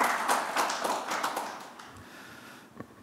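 Scattered hand claps greet a guest at a policy forum on civilian-led unification, a moderate burst that thins out and fades to a few isolated claps.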